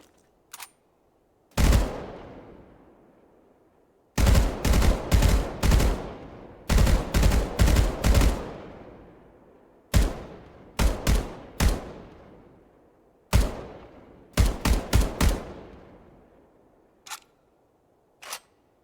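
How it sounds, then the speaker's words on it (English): Battle rifle in Halo Infinite firing in single fire mode: sharp, loud individual shots in quick bursts of three to five, with short pauses between groups and a few isolated single shots, each decaying quickly. "So you get a single fire mode for the battle rifle."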